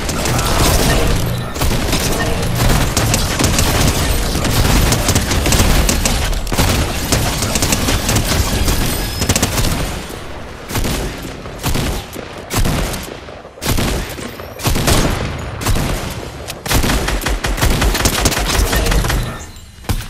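Loud, dense gunfire from the video game Fortnite, with rapid bursts and booming shots packed close together, broken by brief gaps in the later half.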